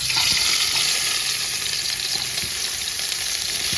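Sliced onions sizzle loudly in hot oil with popped mustard seeds, a steady, dense hiss of frying that holds throughout without a pause.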